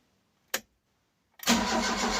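A Ford Cortina Mk3 estate engine, carburetor just refitted, gives one short crank burst, goes quiet, then catches and runs at a loud, steady idle to the end.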